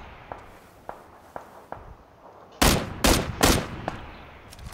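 Gunfire in the battle-royale video game PUBG: several faint, distant single shots spaced apart, then a close, loud cluster of three or four heavy shots, with sporadic quieter pops after.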